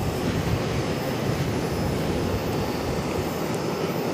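Airplane arriving at Charlotte airport, heard as a steady, broad jet rumble and roar that holds evenly throughout, distant and continuous with no voices.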